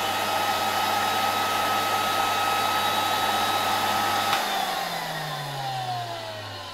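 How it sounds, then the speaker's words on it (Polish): A hair dryer plugged into the socket of a 1964 Alfa K2 vacuum cleaner with an SK-5b motor runs with a steady, loud whirring whine, then its motor pitch sinks gradually as the voltage is turned down. "No i teraz podłączam tutaj w to gniazdko suszarkę do włosów."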